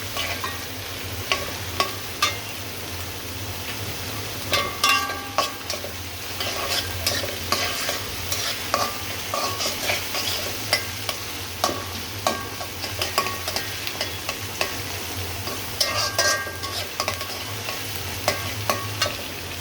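Leafy greens frying in oil with green chilli, onion and garlic, a continuous close sizzle broken by frequent spatula stirs and scraping clicks, busy and even throughout with nobody speaking.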